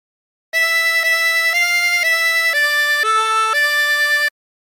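A harmonica plays a phrase of Aura Lee as a clean run of sustained notes stepping up and down, alone and fairly loud for about four seconds.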